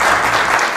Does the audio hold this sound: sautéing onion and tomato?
no